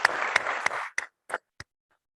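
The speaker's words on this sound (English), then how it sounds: "Let's give them a round of applause." Audience at a college state-of-the-college event giving a short round of applause that quickly thins out into a few scattered, isolated claps before falling silent.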